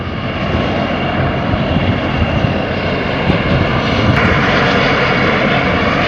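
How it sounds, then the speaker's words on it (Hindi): A helicopter sits on a helipad after landing, its rotor still spinning with a loud, steady, throbbing roar that holds close by throughout with no voices. "अभी हम सीएम भूपेश बघेल आ गए हेलीपैड में उतर से।"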